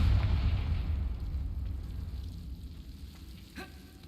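A Confringo fire spell from Hogwarts Legacy blasts out with a loud low-end roar that crackles and sizzles, then fades, ending in a short sharp burst.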